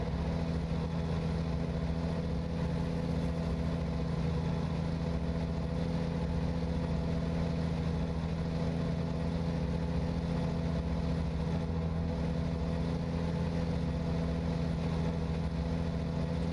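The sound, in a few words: Volvo truck engine idling, video game American Truck Simulator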